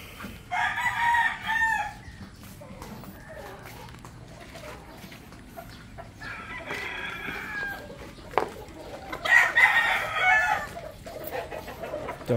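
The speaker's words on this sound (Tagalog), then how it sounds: "papatukain na ni Mark yung ating panlabang manok" A fighting rooster crows in several loud bursts during feeding at a farm, with softer clucks and scattered outdoor noise in between.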